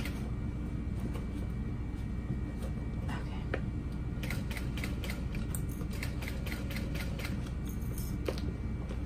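A sewing machine stitches a crossbody bag at stitch length 4 with a little back stitching, giving a steady close mechanical whir broken by quick ticking and clicking from the needle mechanism.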